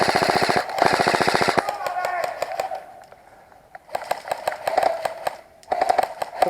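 Airsoft gunfire outdoors during a skirmish: bursts of rapid, evenly spaced shots with a short pause, then more bursts, loud and close, with players talking briefly in between.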